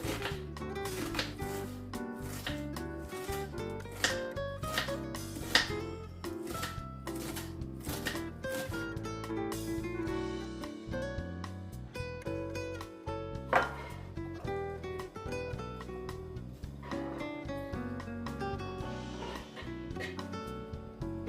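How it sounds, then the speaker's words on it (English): A knife taps steadily on a board as half an onion is sliced very thin, a fast, even run of close, light chops with music playing underneath. "Peel and chop half onion into small pieces. Very thin slices."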